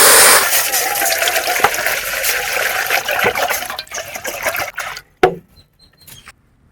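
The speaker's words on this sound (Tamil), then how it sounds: "தண்ணி ஊற்றிக்கலாம்." Water poured into a cooking pot on a village stove before eggs go in to boil, a steady broad splashing rush for about five seconds that cuts off, followed by a few faint clinks.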